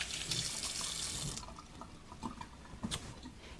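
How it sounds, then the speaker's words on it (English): Kitchen tap water runs into a sink during hand washing, a steady splashing rush for over a second before it drops to softer trickles and drips. "Let me wash my hands."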